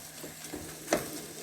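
Ground turkey and onions cook in a pan with a soft, steady sizzle, broken by a few scraping stirs of a spoon; the sound is faint and close, with no talking.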